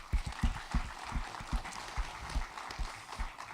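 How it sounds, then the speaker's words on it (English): Audience applause at a startup mentoring event, scattered claps with distinct rhythmic hits rising over a dense crowd wash, moderately loud and continuous. "Let's give them a big round of applause."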